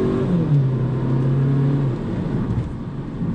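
An Audi A3 with a turbocharged engine accelerates, its note rising as the revs climb and then dropping off after a shift, loud and close with no talk.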